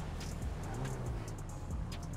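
A Toyota Supra with a 2JZ engine in the driving game GTA 5 growls at moderate volume, its pitch rising and falling across a couple of short revs.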